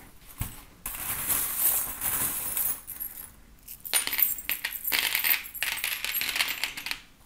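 Divination charms are cast and clink together in several bright, metallic jingling bursts, like small coins or trinkets dropping and rattling, close and fairly loud with brief pauses between scatters.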